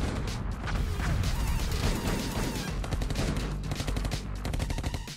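Rapid gunfire bursts in a cartoon-style chase scene, dense and loud throughout with overlapping shots and crashes, no pauses.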